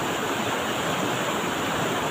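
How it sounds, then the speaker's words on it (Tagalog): Strong, swollen river current after overnight flooding in the rural Philippines, a continuous loud roar of rushing water with no breaks, heard up close. "Malakas yung agos ng ilog"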